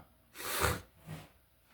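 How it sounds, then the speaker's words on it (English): A couple of quick sniffs from a runny nose in a cold room: one louder broadband sniff followed by a shorter, softer one, close to the mic with no talking. "Sorry about the sniffles."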